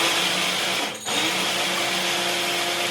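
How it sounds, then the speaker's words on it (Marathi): A mixer grinder grinding soaked wheat whirs loudly and steadily, with one brief dip in its drone before it picks back up. "हे मिक्सरमधनं सगळं गहू फिरवून घेतलं"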